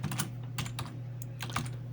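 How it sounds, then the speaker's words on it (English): Keys clatter on a computer keyboard in quick bursts while a button click handler is typed into Android app code, with a steady hum underneath and no talking. "Put the cursor in here and type on-click"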